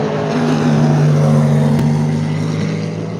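Race cars at Le Mans at night heard from trackside, a loud engine drone with a steady low pitch that swells and then fades slightly as cars pass, with no talking.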